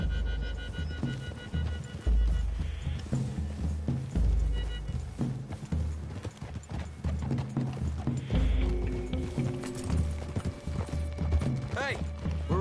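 Horses gallop through woodland in Red Dead Redemption 2, a continuous rumble of hoofbeats with creaking tack and gear under a game score, loud and near.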